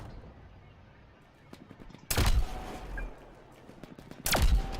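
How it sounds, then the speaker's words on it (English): Gunfire in the sci-fi shooter The Signal From Tolva, with two loud, abrupt bursts of shots standing out over a busy background of scattered, fainter shots and battle noise, and no one talking. "Shooting my own guys, they're standing in the way."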